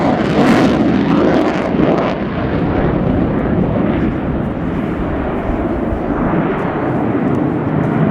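A Sukhoi Su-27P1M Flanker jet flies slowly with its large dorsal air brake extended at an air show display, a loud, continuous roar of jet engines that is strongest at the start and stays constant.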